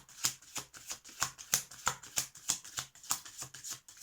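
Tarot cards being handled and drawn from a deck, heard as a regular run of crisp card flicks and snaps, about three per second, close and clear with no talking.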